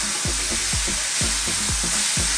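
Curry spice powders fry for minced beef keema in a pan, with a loud continuous sizzle broken by regular scraping strokes of stirring, close up and with no talk.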